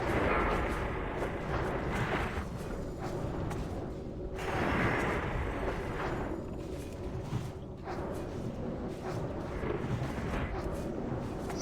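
A broadside cannon volley booms out in a heavy, continuous rumble of overlapping blasts, loud and dense with several stronger thumps rising through the roar.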